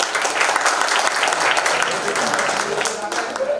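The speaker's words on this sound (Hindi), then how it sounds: "पहले परिणाम के लिए एक जोरदार तालियां।" Audience applause at the Parinam Diamond Celebration 2025, a motivational speech event: dense, steady clapping from a large crowd, sustained for several seconds and fading slightly toward the end.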